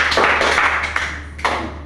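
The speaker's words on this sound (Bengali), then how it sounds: "একটা হাততালি হবে ইসিটার জন্য।" A classroom breaks into a short round of applause for a student, a brief burst of many hands clapping at once that fades with a few stray claps.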